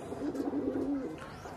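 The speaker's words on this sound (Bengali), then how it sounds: "আর এই যে এখানে কবুতর আছে" Pigeons coo in a steady, close run of soft low calls beside a home quail-farming cage setup, with no talk over them.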